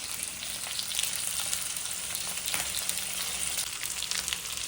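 Food sizzling steadily in a hot pan during a home lunch preparation, a dense, even crackle holding at a constant level for the whole stretch with no voices over it.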